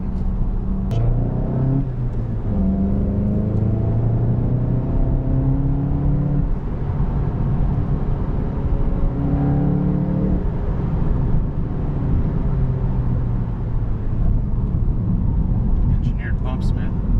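Tire and road noise from a 2018 VW Golf GTI SE manual on Bridgestone Potenza tires: a steady loud rumbling whir inside the cabin with rising and falling engine tones as it accelerates and shifts.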